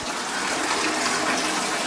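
Steady broadband rush of tap water pouring down a Kleerdrain shower drain, continuous and fairly loud with no pauses, no voices.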